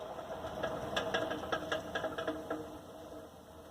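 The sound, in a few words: Champion 400 engine running after gear adjustment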